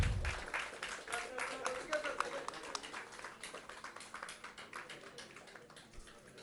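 Faint, scattered clapping from an audience at a press club national conclave, thin and uneven under a muffled voice, fading gradually over several seconds.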